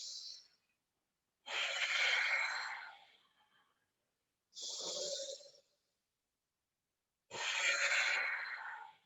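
Slow, deep breaths during a yoga flow, each a long airy inhale or exhale separated by silent pauses, close and clear, four breaths in a calm rhythm.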